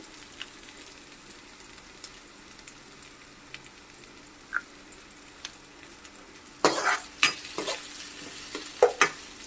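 Onions and green chillies fry in a pan, starting as a quiet hiss and then breaking into loud, crackling sizzles with sharp spatters and spoon knocks toward the end.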